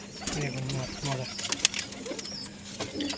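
Old-generation pigeons of the Kaldom and Laldom breeds coo softly in short, low repeated phrases nearby, while someone talks over them.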